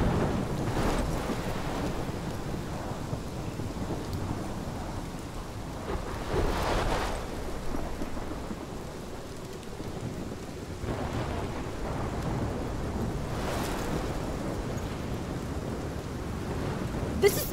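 A thunderstorm in the video game Life Is Strange: steady heavy rain and wind with low rumbling thunder swelling several times, a continuous dense wash of storm noise and no talk.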